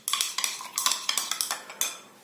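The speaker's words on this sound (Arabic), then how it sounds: "واقلبهم كويس جدا لغايه لما يدوبوا" A spoon stirs citric acid into a small amount of water, striking a container in quick, bright clinks, about a dozen metallic taps in an uneven rhythm, close and clear with no voices.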